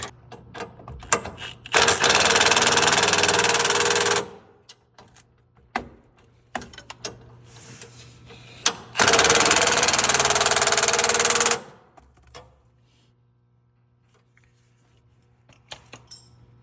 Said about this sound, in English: Now that we have everything else tight, we can tighten up this pillow block.